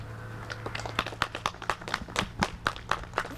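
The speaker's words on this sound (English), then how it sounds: "if we could just give a little round of applause for our staff." A small group at a Habitat for Humanity house dedication gives the staff a light round of applause. The distinct, separate hand claps are moderately close, fairly rhythmic and modest in volume, with no one talking.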